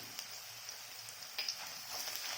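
Green chillies frying in a spice tempering with ginger for a quick semolina upma breakfast, giving a faint, steady hiss of sizzling oil with a few soft crackles, no talking.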